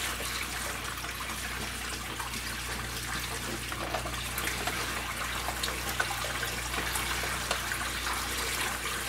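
Water runs steadily into a shrimp-only aquarium, splashing and trickling as it drains onto a rock; a continuous, fairly loud wash of flowing water without talk.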